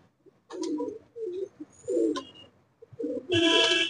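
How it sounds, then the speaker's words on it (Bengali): Malwai pigeons in a loft coo in low, throaty bursts, several calls close by with brief pauses, plus a sharp flutter or rustle near the end. "এখানে দেখুন কিছু মালবাহী পায়রা রয়েছে,"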